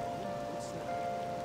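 Steady rain falls in the video game Persona 5, a continuous, even patter of drops with faint tonal game sounds beneath it and no voices.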